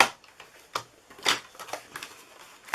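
Cardstock fed through a manual die-cutting machine while making a Christmas card and treat box, giving a series of faint, dry scraping and crunching passes with short quiet gaps, close by and alone.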